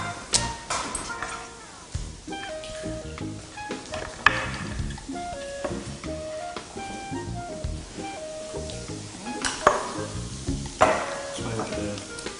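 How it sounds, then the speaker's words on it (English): A spoon stirs a shrimp, egg, onion and garlic mixture in a bowl, making irregular wet scrapes and clinks up close, with scattered ticks and taps of utensils throughout. "we're going to stir that up"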